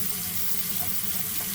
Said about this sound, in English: Okay, so I've got the water turned on.